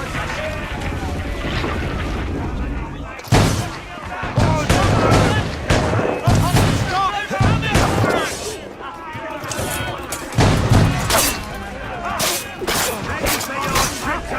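Ship cannons fire in a naval battle in Assassin's Creed Rogue: heavy booming shots crack out in irregular bursts over a constant rumbling din, with voices calling out amid the barrage.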